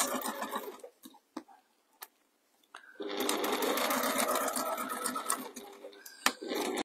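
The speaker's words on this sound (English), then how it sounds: "we're just going to sew the remainder of that gusset onto the front piece" Domestic sewing machine stitching a gusset onto the front panel of a fabric pie crust cushion; a few faint clicks first, then a steady close whirring run of stitching for about four seconds, ending with a sharp tap.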